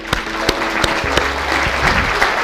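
A seated audience at a goal-setting talk breaks into loud, enthusiastic applause, with sharp clap bursts standing out over a dense, steady wash of hands clapping close by.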